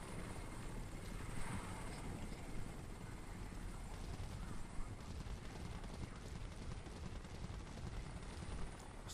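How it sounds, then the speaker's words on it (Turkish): A helicopter in the video game Crysis hovers overhead, its rotor chop a loud, continuous throbbing roar with steady beats under faint background noise. "Manyak helikopter tepemizdeyiz."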